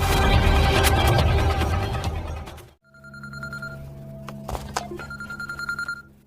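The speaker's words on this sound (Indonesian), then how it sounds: "tiba-tiba ada panggilan masuk yang membuat Soyun bingung" A mobile phone rings with an incoming call in a Korean thriller, repeated electronic ring tones in short bursts, clear and fairly loud, following a dense noisy passage that cuts off abruptly.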